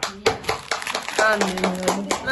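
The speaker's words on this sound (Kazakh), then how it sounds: "Шапалақ ұрып қойыңдар." Children clapping in a few short bursts of claps indoors during a chips-tasting game, with speech mixed in between the claps.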